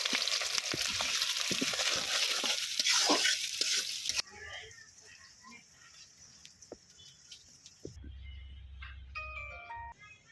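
Dry spices and chopped onion dropped into hot oil, a loud broad sizzle that settles into softer crackling frying, followed by faint tonal beeps at the end.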